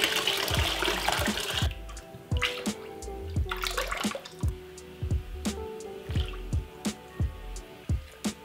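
Water runs into a container at first, then gives way to a steady series of distinct drips and splashes landing in liquid, close and fairly quiet.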